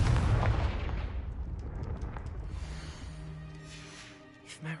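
Confringo spell explosion in the video game Hogwarts Legacy, a loud booming blast at the start that rumbles and fades over several seconds into a low lingering tail.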